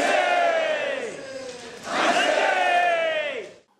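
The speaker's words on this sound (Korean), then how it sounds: "만세 삼창의 함성이 울려 퍼집니다" A large crowd of Korean community members at a Liberation Day ceremony in Flushing, New York, bellows a long, unified cheer of manse, then a second, louder one after a short dip, all loud and echoing.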